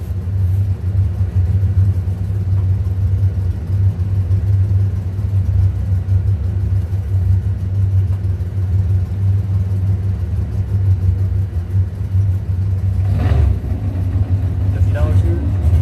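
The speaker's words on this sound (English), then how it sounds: "And all 15 cars are in the lanes, ready to go." Doorslammer drag race cars idle in the staging lanes at a qualifying session, a steady loud low engine rumble throughout with a brief rise in revs near the end.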